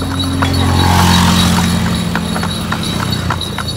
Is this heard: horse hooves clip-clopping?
yes